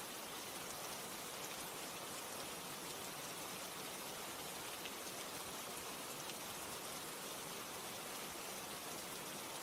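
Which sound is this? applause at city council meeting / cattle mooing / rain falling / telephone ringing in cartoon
rain falling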